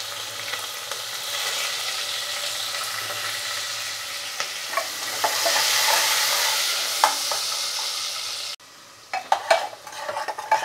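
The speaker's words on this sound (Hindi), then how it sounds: "हम यहाँ पे प्याज डाल के अच्छे से गोल्डन ब्राउन हो जाने तक फ्राई करेंगे" Onions frying in oil in a pan until golden brown, a dense continuous sizzle with scattered stirring scrapes and clinks, swelling slightly midway, then dropping quieter near the end with sharper utensil knocks.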